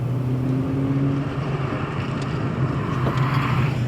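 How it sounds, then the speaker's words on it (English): A Ford Falcon XR8 Ute with a tuned V8, heads and a hotter cam, burbling steadily while driving, a low continuous rumble heard from inside with gentle rises in revs. "The tick for tuning means you get improved heads, a hotter cam and a proper V8 burble."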